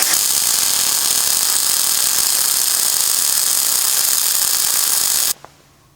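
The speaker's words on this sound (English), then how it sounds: "Alright, let's see how that welds." A VEVOR MIG 250 welder lays a MIG bead, giving a loud, continuous crackling buzz that runs steadily for about five seconds and then stops abruptly, followed by near silence.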